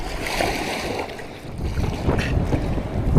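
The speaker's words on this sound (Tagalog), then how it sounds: "Lakas ng hangin." Strong wind buffets the microphone at sea with big waves in Tambanan, in heavy, continuous gusts, with a rough low roar that rises and falls throughout.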